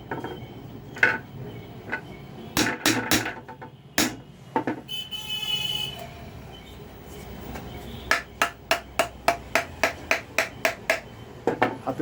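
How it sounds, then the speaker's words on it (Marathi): Hammer blows on the cast metal body of a ceiling fan being assembled, with scattered single knocks early on, then a steady run of about a dozen sharp, evenly spaced strikes close up, with no talking. "जे जर हातोडी मारायची त्याच ठिकाणी हातोडीचा टोला द्यायचा"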